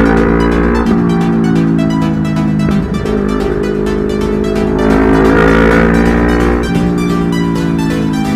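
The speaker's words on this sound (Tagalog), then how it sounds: "ang daming sasakyan" Many cars pass on a rainy road during a ride, a loud continuous roar of engines and tyres that swells and fades as vehicles go by, with no voices.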